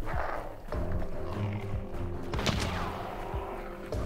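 Gunshots in the video game Hunt: Showdown, several sharp reports cracking out at irregular intervals against low ambient background noise, with one especially loud shot near the middle.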